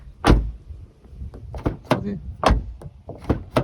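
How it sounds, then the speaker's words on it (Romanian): Door thumps and latch clunks come from a Volkswagen e-Up's rear door being shut, several short solid impacts spaced a second or so apart, close by and separated by brief gaps. "Ușa, chiar și asta spate, asta mai ieftinică, așa se aude destul de bine."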